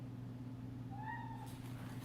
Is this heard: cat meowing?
yes